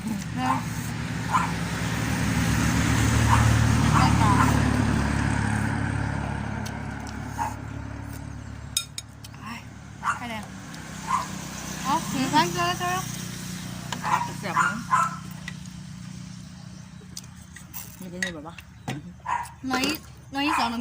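A dog barks and howls in short, irregular yips and drawn-out wails, mixed with people talking nearby and a low vehicle rumble early on.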